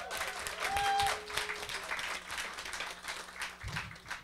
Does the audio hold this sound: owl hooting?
no